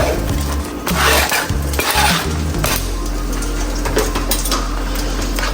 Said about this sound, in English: So when your beef is cooked, go ahead and add in your peppers. So these are peppers and onions.